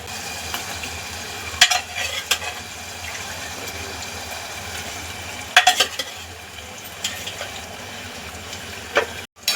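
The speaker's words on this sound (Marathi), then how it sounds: "आता हे मटण आपण पूर्ण मसाल्यांमध्ये परतून घ्यायचं परत दोन मिनटं" Cooked mutton being stirred and fried in an oily masala for Hyderabadi mutton curry, a soft steady sizzle broken by occasional scrapes and clinks of a spoon against the pan.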